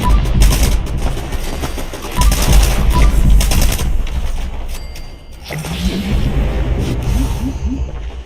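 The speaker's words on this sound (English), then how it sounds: "I hear some weird gunshots" Gunfire in the video game Fallout 76, with several loud bursts of rapid shots and scattered single cracks over a dense, busy game soundscape, dropping into quieter pinging tones near the end.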